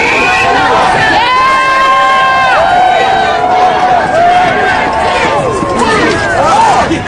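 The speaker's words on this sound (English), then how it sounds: "Give yourself another round of applause." Rally crowd on a bridge applauding and cheering, a loud continuous wash of clapping and shouting voices with a sustained cry rising above the din throughout.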